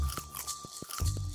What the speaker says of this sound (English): oh, chewing sound effects